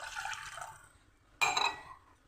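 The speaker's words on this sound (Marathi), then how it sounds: "पातेल्यामध्ये दूध आणि पाणी टाकूया." Milk is poured from a glass into a pan, then water follows. Two separate close splashing pours are heard, the second starting suddenly and louder, with quiet gaps and no talk.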